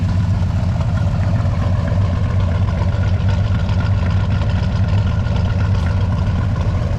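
A 1967-72 Chevy C10 V8 fitted with Holley Sniper EFI idles high while warming up, a loud, steady, close-up engine drone with an even low rumble and no voices.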